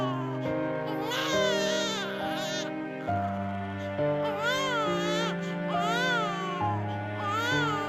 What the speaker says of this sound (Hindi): उस बच्ची की रोने की आवाज सुनते हैं